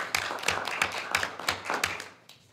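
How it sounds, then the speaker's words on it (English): A small group claps at a school board of education meeting to honour the valedictorian and salutatorian, a sparse, fairly quiet rhythm of individual claps that thins out and fades after about two seconds. "We give them a round of applause."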